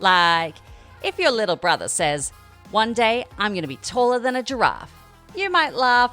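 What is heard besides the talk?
No everyday noise stands out behind the speech.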